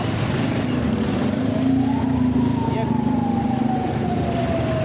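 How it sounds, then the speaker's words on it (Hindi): An ambulance siren wails as the vehicle squeezes along a blocked city road in front of a market, its pitch sliding near and loud over rumbling traffic and engine noise. "देखें अभी एम्बुलेंस जो कि कितनी मुश्किल से गुजरी है।"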